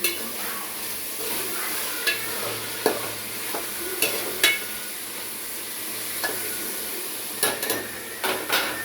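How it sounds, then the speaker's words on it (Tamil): Tomatoes and other ingredients for tomato rice sautéing together in a pan, a steady close sizzle broken by irregular scrapes and clinks of a spoon stirring against the metal, with no talking. "இது எல்லாத்தையும் ஒன்றா அப்படியே போட்டு நல்லா வதக்கலாம்."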